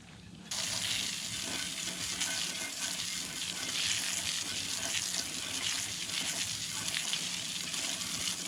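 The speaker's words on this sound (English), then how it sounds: "So let me rinse that tire off." Steady rushing spray of water rinsing grease off a tire and rim, a continuous loud hiss starting after a brief quiet moment and running unbroken to the end.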